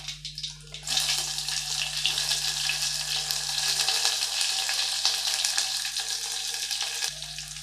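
Green chillies and chopped onions fry in hot oil for a plain biryani, a loud steady sizzle that flares up after a quiet first second and carries on without a break before easing off near the end.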